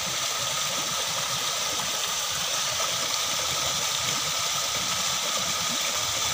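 A large pump motor drives an artificial waterfall built from many rocks, running as a steady, continuous hum and whir mixed with broad rushing water noise, close and even throughout with no talking.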